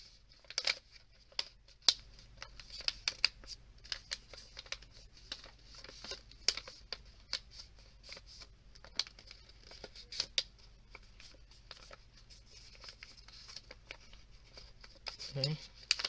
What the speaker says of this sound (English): Then fold the paper in half like this.